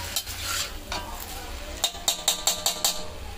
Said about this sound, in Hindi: मैं सारी वेजिटेबल इसमें डाल दूँगी और इसको भी अच्छे से मिक्स कर लेंगे इसमें